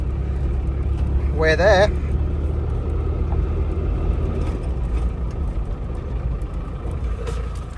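A Land Rover Discovery with a noisy LT230 transfer box drives along, giving a steady low mechanical rumble close by, while a person speaks briefly over it.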